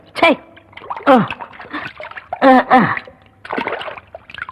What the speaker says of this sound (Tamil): எவ்வளவு துணி தான் துவைக்கிறது?